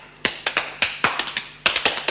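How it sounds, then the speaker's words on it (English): Women prisoners give a brief round of claps for a new governor: a dozen or so sharp, separate hand claps in an uneven, sparse rhythm, close and clear with no talking over them. "Let's give the new governor a little clap."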